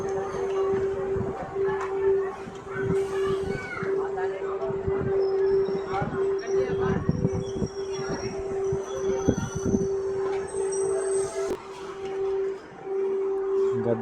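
A MEMU passenger train on the Kacheguda–Raichur run rolls along, with a steady humming tone and rattling wheel clatter inside the coach, while people talk over it throughout.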